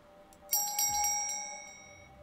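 A single bright bell rings once in an indie puzzle game, striking sharply and then fading over a couple of seconds.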